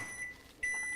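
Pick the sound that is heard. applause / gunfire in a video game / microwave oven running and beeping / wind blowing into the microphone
microwave oven running and beeping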